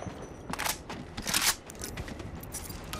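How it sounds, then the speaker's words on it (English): Quiet mechanical clicks, snaps and rattling bursts of a weapon being reloaded in the battle royale game Apex Legends, several short metallic actions in quick succession with no speech over them. "Reloading."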